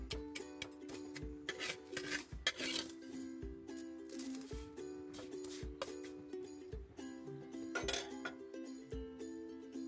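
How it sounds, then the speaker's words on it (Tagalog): Eggshells are stirred in a metal pan over a gas flame, giving repeated bright clinks, scrapes and rattles in an irregular rhythm, close and fairly loud, with no voices. "ang paghahalo ng ating eggshells hanggang maging golden brown ang itsura"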